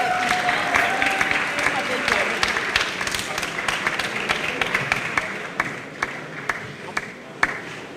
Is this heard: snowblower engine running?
no